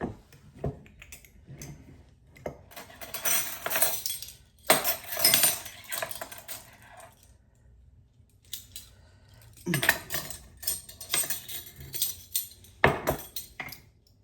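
Metal measuring spoons clink and scrape in bursts while baking soda is measured for a Texas white sheet cake, the clatter coming in uneven clusters separated by brief quiet gaps, close and fairly loud.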